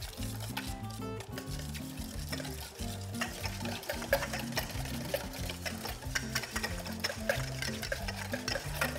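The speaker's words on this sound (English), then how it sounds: "So just keep whisking and making emulsification." A whisk beats a ginger salad dressing in a bowl with rapid, steady rhythmic clicks and scrapes, close and continuous, with no talking.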